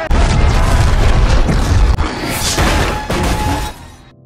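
A large plane crashes into a city street and explodes in a film scene, flipping a car. A loud, dense roar of booms and shattering debris runs almost continuously, with a brief dip near two seconds before a second crashing surge.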